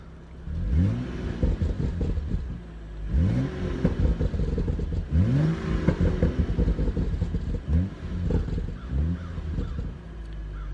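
A BMW M235i with its stock exhaust and a warm engine is blipped to around 2,000–3,000 RPM several times, each rev swelling into a deep burbling growl and dropping back to idle, moderately loud and close.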